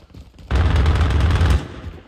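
An automated sentry gun rattles off a loud, sustained burst of rapid gunfire for about a second in a Call of Duty Warzone battle royale match, cutting off sharply and leaving quieter game ambience before and after.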